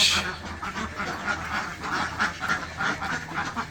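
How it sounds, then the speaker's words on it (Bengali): Khaki Campbell ducks along with three Chinese ducks and two Beijing ducks quack continuously at a duck pond fish farm, a close, busy chorus of overlapping calls with no pauses. "সবই খাকি ক্যাম্বল হাঁস বাট এখানে তিনটা চীনা হাঁস আছে আর দুইটা বেজিং হাঁস আছে"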